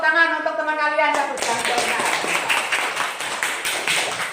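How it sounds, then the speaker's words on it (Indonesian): A classroom of children claps for a classmate in an Islamic studies lesson, a dense burst of many hands that starts after a voice and keeps going steadily and fairly loud. "Tepuk tangan untuk teman kalian ya"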